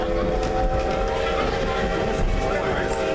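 A Strasburg excursion train rolls steadily, a continuous loud rumble with a sustained tonal hum from the railcar, heard from on board.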